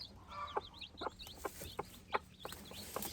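A mother hen clucks softly and repeatedly to her newly hatched chicks, with short rhythmic clucks interleaved with high peeping chirps from the chicks, all fairly quiet and close.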